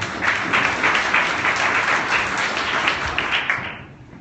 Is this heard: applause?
yes